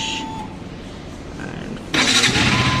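A starter whirs briefly, then a 2022 KTM RC 200 motorcycle engine catches and fires up loudly near the end, in a showroom.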